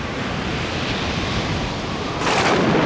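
Stormy cartoon ocean waves on a very stormy day roar as a dense, loud wash of surf and wind, swelling into a heavier crash near the end.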